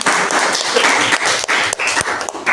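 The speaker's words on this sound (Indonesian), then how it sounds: "tepuk tangan untuk kelompok 2" Classroom applause for a student group, a loud burst of many hands clapping close by in an uneven, continuous patter with a few sharper claps standing out.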